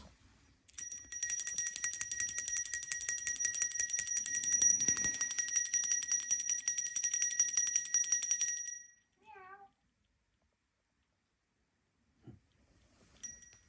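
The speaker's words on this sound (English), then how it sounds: "The bells." Small bells jingle and ring continuously for several seconds inside Woodchester Mansion, bright and fairly close, then stop, leaving near silence broken by a few faint chimes and a thump.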